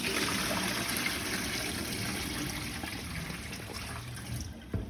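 Tap water runs steadily over rice being rinsed in a kitchen, a constant trickling splash that holds level for several seconds, with a small clatter near the end.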